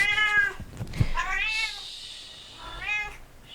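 A cat meowing close up, several drawn-out, rising and falling meows separated by short pauses, with no talk over them.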